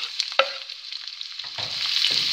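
Chopped vegetables frying in melted butter in a pan, a steady close sizzle with a few soft stirring scrapes and knocks.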